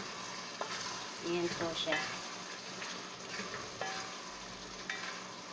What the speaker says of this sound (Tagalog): pakuluan po natin siya ng konti. haluin po natin para hindi po masunog.